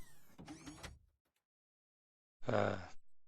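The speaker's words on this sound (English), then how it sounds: "I've got this nice, cool looking door that makes a cool sound." A sci-fi door in the video game Planet Explorers opens with a loud, rich mechanical whoosh lasting about half a second, following an earlier burst of layered synthetic tones; no one speaks.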